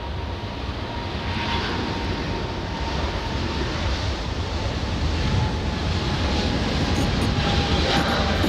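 A British Airways airliner passing at Los Angeles International Airport, a broad steady engine roar with a faint whine, continuous and moderately loud with wind noise, no talking.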